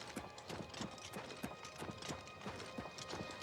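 A horse walking in the video game Oblivion Remastered, producing a steady, fairly quiet clip-clop of hooves in an even walking rhythm, with a faint voice in the background.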